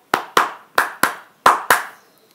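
Six sharp hand claps ring out close and loud in an uneven rhythm, two quick pairs and a later pair, then silence.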